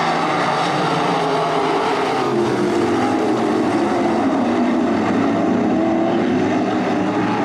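305 sprint cars racing a heat at Attica Raceway Park, a dense, continuous roar of several engines at full throttle, loud and unbroken throughout with no talk on top.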